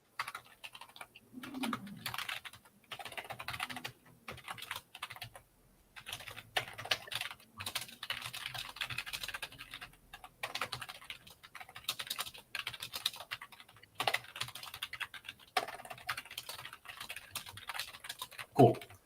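Steady typing on a computer keyboard while writing an email, a close, busy patter of key clicks with brief pauses between bursts, continuing throughout with faint background noise.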